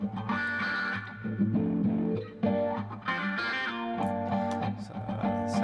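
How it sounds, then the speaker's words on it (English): Electric guitar through a wah effect in Amplitube 3 amp-simulation software, with sustained notes and chords sweeping in tone, loud and distorted-sounding, with no talking. "I'm going to start by putting in a wah"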